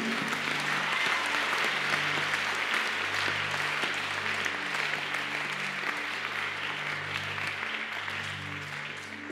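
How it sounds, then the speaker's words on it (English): A congregation claps steadily through a church service led by a prophet, a dense continuous wash of hands with a low sustained musical tone underneath. "Not the way you are clapping."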